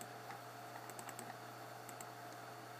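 Calculator keys are pressed in a short run of light, quick taps, faint and close, over a steady low background hum.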